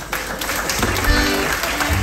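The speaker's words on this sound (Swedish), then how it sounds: "Ge mig en applåd." Roadside audience at an accordion performance gives a round of applause, continuous mid-level clapping throughout the short stretch, somewhat blurred and mixed with outdoor background sound.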